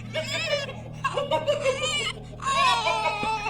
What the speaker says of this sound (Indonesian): suara ketawa perempuan itu dibarengi sama suara tangisan bayi yang digendong sama sosok tersebut